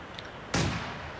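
A single mortar blast in the World War II strategy game Company of Heroes 2, a sudden broadband boom that decays quickly, heard alone over low background noise.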